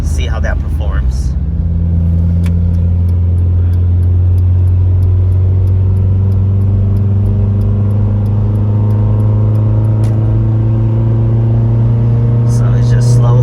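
A 1999 Honda CR-V with a B20 engine, overheating and leaking oil, accelerates steadily onto a highway, its loud engine drone rising in pitch over road rumble while people talk inside the cabin.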